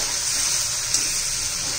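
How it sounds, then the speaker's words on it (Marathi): Water pouring into a mixer grinder jar holding ground masala for an egg masala, a steady, bright splashing gush running unbroken and close throughout. "मिक्सरच्या भांड्यामध्ये पाणी घालून घेतलं"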